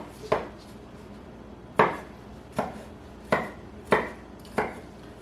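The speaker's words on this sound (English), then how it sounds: "I've got 5 slices here, so we're going to chop these up." A knife chops through a few pickled jalapeno slices on a cutting board, six sharp, spaced thuds close by, while a voice speaks briefly.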